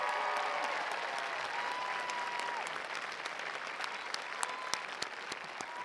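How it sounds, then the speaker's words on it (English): Loud, sustained applause from a large audience at the Benicia High School Class of 2022 graduation ceremony, a dense wash of clapping that fades slightly toward the end with a few sharper claps standing out. "let's give him a really loud applause because he absolutely deserves this."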